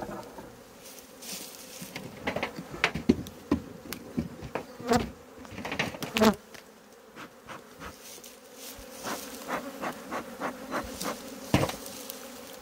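Honey bees swarm and buzz around hives during a honey harvest in Jamaica. The hum is steady and close, with frequent sharp knocks and taps from the hive work.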